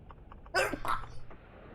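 A single sharp sneeze bursts out close by, followed by a brief gasping breath, against a quiet background.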